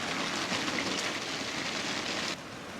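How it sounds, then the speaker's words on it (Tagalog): Steady rain pours down outdoors at a gathering, a dense even hiss of drops hitting surfaces that holds the whole time and eases only slightly near the end. "Kaya umuulan na."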